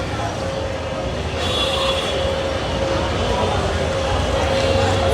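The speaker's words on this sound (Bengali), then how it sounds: "বেনাপোল অভিমুখী আন্তনগর বেনাপোল এক্সপ্রেস ট্রেনটি অলরেডি গ্যান্ডারিয়া রেল স্টেশন প্রবেশ করছে" The Benapole Express intercity passenger train rumbles steadily into Gandaria railway station with a faint wheel squeal, its noise building slightly as it rolls in, with a voice audible under the din.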